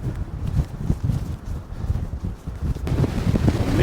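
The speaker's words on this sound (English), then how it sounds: "Kneeling down here, buffeted by the wind." Gusty wind on an exposed Shetland coastline buffets the microphone with a dense, rumbling roar that swells and dips continuously.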